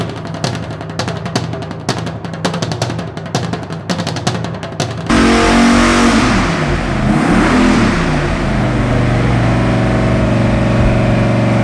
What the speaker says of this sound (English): This is our all aluminum 572 cubic inch twin turbo Chrysler Hemi.